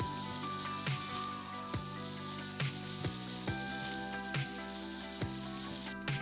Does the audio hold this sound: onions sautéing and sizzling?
yes